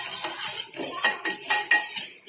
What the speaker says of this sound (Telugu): కస్టర్డ్ పౌడర్ వేసుకున్న తర్వాత మనం మిక్స్ చేసుకుంటూనే ఉండాలి